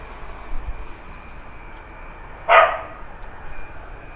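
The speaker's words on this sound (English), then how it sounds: "Please stop barking." A single short dog bark stands out partway through, against quiet room background.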